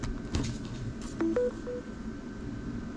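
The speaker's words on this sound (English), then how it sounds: "So that single tone that you heard lets my phone know that's just regular charging" A phone gives a single short electronic tone as USB charging begins from a duplex wall outlet with built-in GaN USB ports, a brief beep over a faint background hum.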